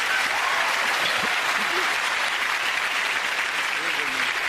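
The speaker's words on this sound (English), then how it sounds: "Give them all a round of applause, ladies and gentlemen." Studio audience at a comedy panel show gives a steady, loud, sustained round of applause, a continuous wash of clapping with faint voices buried underneath.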